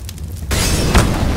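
A fire grenade is thrown in CS:GO on Dust2 and lands with a sudden whooshing burst of flame that keeps roaring, with a thud partway through. No voices.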